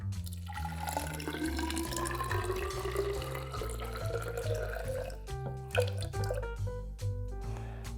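Water tinted with water-based food colouring pours from a container into a clear sensory bottle, a continuous splashing trickle that turns into bubbly gurgles and drips toward the end, with steady music underneath.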